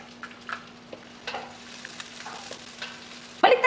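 Onion sautéing with chorizo in a little oil in a pan: a quiet, steady sizzle with light stirring scrapes and clinks, and a louder burst of frying near the end.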